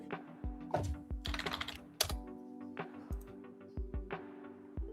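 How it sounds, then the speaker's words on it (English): Close computer keyboard typing comes in irregular bursts of crisp key clicks and thumps, some rapid runs and some single taps, with no talking over it. "and then type and then click in the text box again"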